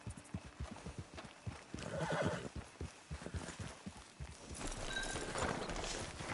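Horse neighing and hooves clopping in the video game Resident Evil 4, with repeated whinnies over steady clip-clop rhythm and game ambience, no talk.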